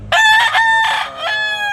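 An old rooster crows loudly and close by, one full drawn-out call with a ringing, harmonic tone and a falling finish.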